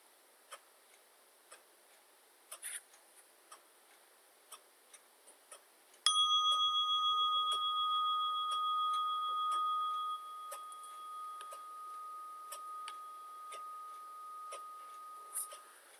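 A meditation bell rings once to close a five-minute guided meditation, a clear sustained tone that slowly decays over several seconds against faint ticking in a quiet room.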